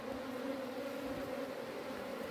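Native honeybees carrying mustard pollen buzz steadily around the hive entrance in cold winter weather, a dense continuous drone of many wings close by with no talking.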